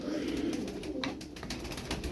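Pigeons in a coop give low, steady cooing that carries through the whole stretch, close and continuous, with faint rustling and a few higher chirps above it.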